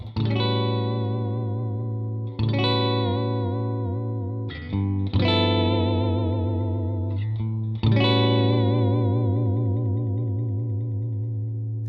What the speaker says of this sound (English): it gives you the wonderful tremolo sound from a Jazzmaster